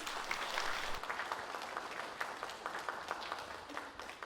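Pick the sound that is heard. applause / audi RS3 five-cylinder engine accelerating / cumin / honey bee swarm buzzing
applause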